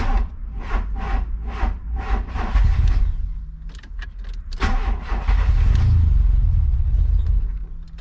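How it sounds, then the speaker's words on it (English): An old starter motor on a VW Mk2 Golf cranks in a test start, with a run of rhythmic whirring pulses that strain and lengthen before the engine catches and rumbles loudly close by. "I'm going to do a test start on the Mark II so that I can hear what the old starter sounds like."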